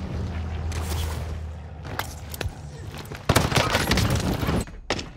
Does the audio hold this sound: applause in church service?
no